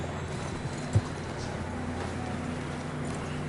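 Horse hooves clop steadily over a continuous low rumble of background noise, moderately loud and close, in the video game Red Dead Redemption 2.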